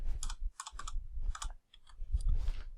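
Typing on a computer keyboard while writing C# code, with quick bursts of close, crisp keystrokes, a brief pause, then another flurry of clicks, no talking.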